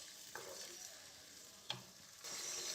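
Mutton liver fries in oil over medium heat, a faint steady sizzle with a couple of sharp spoon scrapes as the pieces are stirred, heard up close with no speech.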